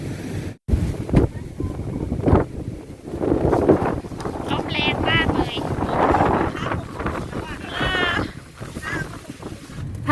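Strong monsoon storm wind buffets a microphone on the coast, a loud continuous roar of gusts and rumble that nearly hides a voice talking underneath.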